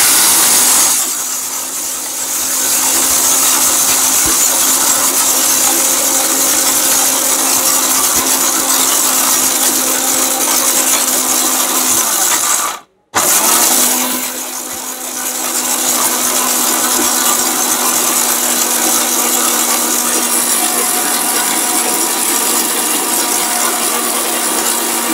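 A high-power BAJAJ blender grinds lentils with a loud, steady whirring drone. It stops for a brief moment partway through, then restarts and runs evenly to the end.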